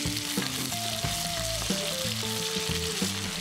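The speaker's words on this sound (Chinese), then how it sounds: "起锅热油，放入洋葱炒香" Onions frying in hot oil in a wok with a steady, dense sizzle throughout. A quieter musical background runs beneath it and nobody speaks.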